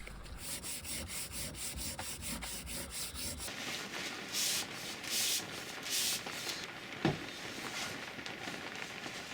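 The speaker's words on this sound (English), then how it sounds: "After priming, I'll sand it to take out the irregularities of the" A primed homemade wheel for a reverse trike is sanded by hand, with steady rhythmic rubbing strokes close up at first, then a rougher, scratchier scraping continues to the end, with no talk.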